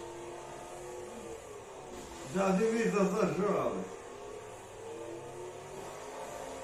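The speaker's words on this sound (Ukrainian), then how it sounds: "Хулігани, дивіться, як газують на нас хулігани." Cars revving their engines close by, a burst of throaty, rising engine roar lasting about a second and a half amid a steady background hum, with people talking.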